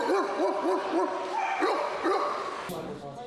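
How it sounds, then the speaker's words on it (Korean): Several dogs gather in an unfamiliar place at a dog show, with one dog giving a rhythmic run of yipping barks and other dogs barking and whimpering around it, loud and close, over continuous narration. "다른 개들이 아무리 짖어대도"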